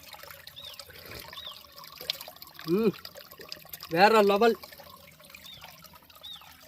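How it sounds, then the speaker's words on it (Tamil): Natural spring water trickles steadily out of the ground at Seeppalakkottai in Theni, a low continuous flow beneath brief speech, with faint bird chirps nearby. "இந்த நீர் ஊற்று வந்து வருது"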